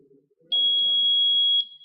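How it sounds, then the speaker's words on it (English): A buzzer on an ATMEL microcontroller, programmed with an Arduino, gives a single steady high-pitched beep lasting about a second, clear and loud after a near-silent start. "So as you can hear, it has started to beep."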